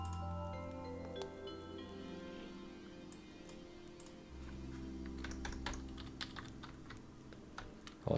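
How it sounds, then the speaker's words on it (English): Keys clack on a computer keyboard as a password is typed, a quiet irregular run of taps over a soft background hum, with no voices. "Hold on, I'm typing my password wrong."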